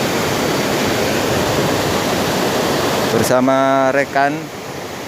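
Fast-flowing rapids on the Genteng river rush with loud, steady broadband roaring water close by. After about three seconds a voice talks over the torrent.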